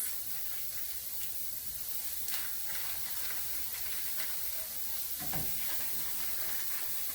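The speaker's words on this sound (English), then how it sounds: "So we're gonna quickly get the meat on here. I'm just taking it and putting it in big chunks." Lean ground meat sizzles steadily in a pan as it browns, a dense continuous hiss close by with a faint thud or two of chunks shifting, no voices.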